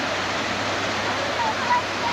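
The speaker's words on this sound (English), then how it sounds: "Waterfall." A waterfall at Black Rock Mountain in Sky Valley, near Mud Creek, gives off a steady, broad rushing roar close by that fills the whole moment with constant white-noise water.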